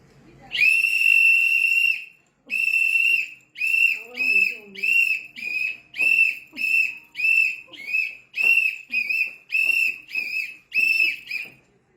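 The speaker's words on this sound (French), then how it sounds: "Quand je sors le sifflet" A shrill whistle blows one long blast, then a rapid series of short, repeated toots in a steady rhythm, loud and close.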